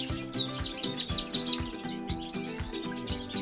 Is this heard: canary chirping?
yes